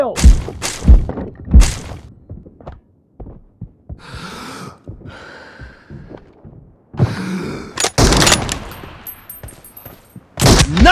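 Video game gunfire from an M24 sniper rifle during a team deathmatch, sharp loud shots in scattered bursts, several close together early on, then quieter stretches with faint thuds and later heavy, noisy blasts.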